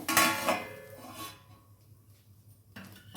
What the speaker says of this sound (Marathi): होत आली आता खिचडी एक मिनटं परत झाकण ठेवून घ्यायचे आपल्याला